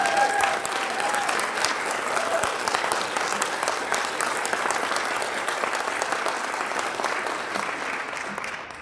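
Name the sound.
audience applause for the sponsors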